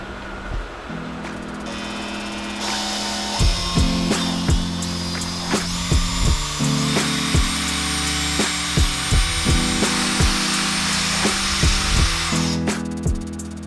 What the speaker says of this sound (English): I'm going to go ahead and use the mixing drill